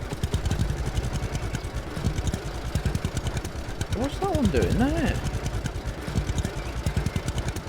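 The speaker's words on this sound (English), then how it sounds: "How loud is the tractor? The tractor's quite fucking loud." A tractor engine in the video game Lumberjack's Dynasty chugs loudly in a fast, steady rhythmic putter, with someone speaking briefly over it.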